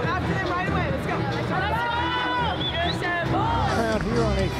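Continuous crowd hubbub fills a college volleyball arena on a Friday night, Florida facing UAB, a dense steady murmur of chatter and cheering from many voices with an announcer talking over it.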